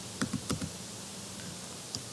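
A few soft keystrokes on a computer keyboard, with a quick cluster of clicks followed by a short pause and one final tap, faint and close, no talking.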